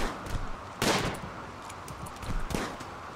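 Bursts of gunfire from a RimWorld colony skirmish, two sharp broadband volleys about a second and a half apart over a steady low background hum, with no talking.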